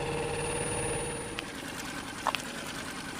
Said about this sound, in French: si j'arrête le moteur, c'est mieux